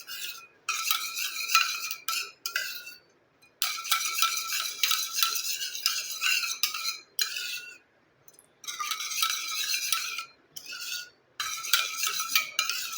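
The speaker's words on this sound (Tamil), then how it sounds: "இப்போ இந்த வெல்லத்தோட லெமன் ஜூஸை நல்லா வந்து கட்டி இல்லாமல் நல்லா வந்து கலந்துக்கோங்க" Lemon juice and jaggery are stirred together in a bowl, with bursts of scraping, clinking spoon-against-bowl rubbing broken by short pauses, close and fairly loud.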